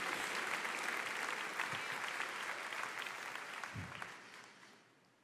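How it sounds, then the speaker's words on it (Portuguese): A church congregation applauds in a dense, even burst of clapping that carries on steadily and tapers off near the end, fairly soft overall. "aplauda o Senhor"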